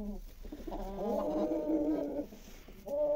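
Roosters cluck indoors in a few short, fairly quiet bursts of throaty calls with brief pauses between them.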